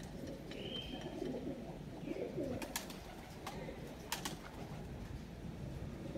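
High-flyer pigeons released onto a rooftop, soft cooing and faint wing flutters over steady outdoor background noise, with a few sharp clicks.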